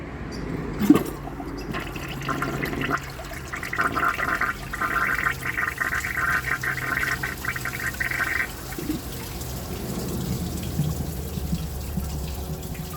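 A Glacier Bay high-efficiency toilet with a clogged siphon jet flushes, a steady rushing water wash with a brighter swirling stretch in the middle, fading to a quieter trickle and refill.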